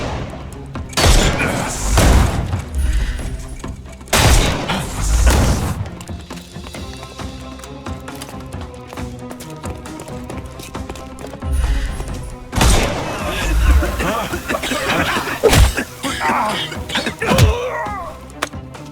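Gunshots boom in the Sherlock Holmes: Chapter One video game, several loud broadband blasts arriving in irregular bursts over a busy game soundtrack, with brief voices around them.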